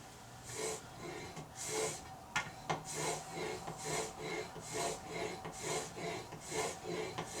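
A blade is drawn back and forth over 1500 grit sandpaper in a steady rhythm of about a dozen soft, close rasping strokes, each a short scratchy swish with brief pauses between.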